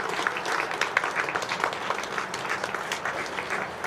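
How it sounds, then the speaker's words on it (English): Audience applauding at a community event in Leominster, steady dense clapping from a modest crowd sustained for several seconds, moderately loud with no talking over it. "So, another round of applause showing our appreciation."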